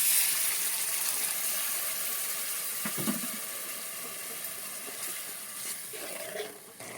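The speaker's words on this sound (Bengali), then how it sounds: "দিয়ে দেবো গরম পানি।" Hot water pours into a spiced curry of ginger paste, coriander, cumin, turmeric, chilli powder and salt, giving a soft, close, continuous splashing gush that fades slightly toward the end.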